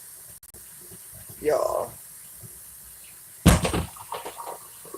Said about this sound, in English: Okay, you gonna pour that in the beans